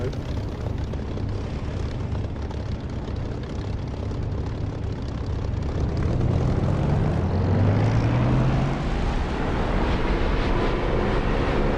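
Propeller aircraft engine in the DCS flight simulator roars steadily through a takeoff roll, growing slightly louder as power builds, with a rising drone and no voices.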